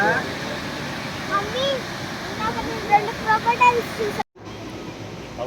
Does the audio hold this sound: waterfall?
yes